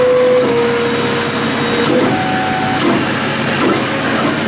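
A laser engraver runs steadily while etching a cast brass machinist hammer handle, giving a constant close whirring hum with fan-like noise and faint tonal whines throughout, no voices.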